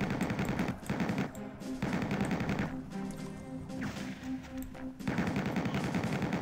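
A riot gun fires in a first-person shooter video game, loud close bursts of rapid shots in several runs separated by short pauses, with a tonal game hum underneath during the breaks.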